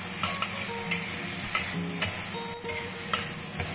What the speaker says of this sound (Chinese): 然后差不多了，就把猪皮倒下去，把它炒均匀。